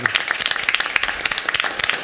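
An audience at a school district board committee meeting applauds a school staff member, a brief burst of dense, close clapping from many hands.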